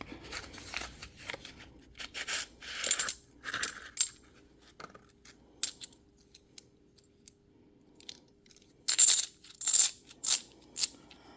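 Coins from a bank roll poured and spilled out for sorting, a close, sharp metallic jingle in scattered bursts with the loudest rattling clusters near the end, no voices.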